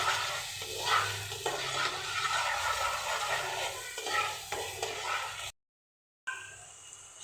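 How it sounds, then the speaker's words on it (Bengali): Turmeric, chili, salt, ground coriander and cumin are stirred into a sizzling curry in a pan, a steady frying hiss with soft scraping strokes, broken by a brief silent gap near the end. "এখন আমি হলুদ, মরিচ, লবণ, ধনিয়ার গুঁড়া, জিরার গুঁড়া এগুলো সবগুলো দিয়ে দিব, দিয়ে একসাথে মিশাবো।"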